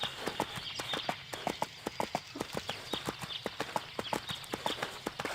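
Horse hooves clip-clop in the EverQuest II video game, a steady run of sharp, evenly spaced hoof strikes at a brisk walking pace, close and fairly clear, with no talking over them.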